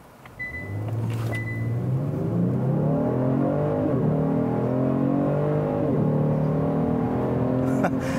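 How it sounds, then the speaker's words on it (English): A 2019 Genesis G70 3.3T sport sedan with an 8-speed automatic launches under launch control, its engine revving up hard in a rising roar with brief dips at each upshift, loud and close. "So I tried the launch control there,"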